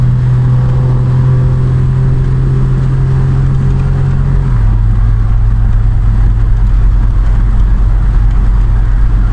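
A 1967 Triumph Vitesse 2 litre drives along a quiet, twisting country road with a loud, steady engine drone heard from close by. Midway the engine note drops to a lower pitch and then holds there.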